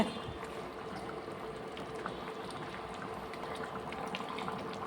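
A pan of chicken liver and gizzard gravy with Kashmiri chilli powder simmers, giving a continuous soft bubbling and hiss with no talk.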